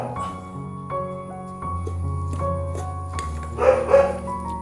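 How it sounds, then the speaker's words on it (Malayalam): A house dog barks in a few short, yappy bursts close by in a kitchen, over a quiet background of low household hum. "ഇപ്പോൾ നമ്മുടെ വീട്ടിൽ നായുണ്ട്, അവൻ്റെ കൊരയാണ് നിങ്ങൾ കേൾക്കുന്നത്."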